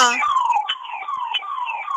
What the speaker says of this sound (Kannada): ಆಂಬ್ಯುಲೆನ್ಸ್ ಬಂತು.